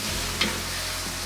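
Mushrooms and onion with zucchini cook in a pan for vegetable lasagna, giving a steady close sizzle with a brief stirring scrape partway through.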